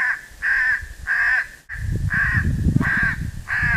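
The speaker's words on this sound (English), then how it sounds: "We're going to see if we can call in these crows." Crows caw during a crow hunt in Florida. Several loud, harsh caws come in a steady rhythm, and after a brief gap more caws sound over a rumbling background.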